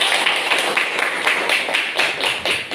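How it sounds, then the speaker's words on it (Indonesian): A group of children clap for a classmate in a classroom, a brisk, slightly uneven run of close hand claps with a rhythmic pulse, short and alone without talk. "Tepuk tangan buat Amel"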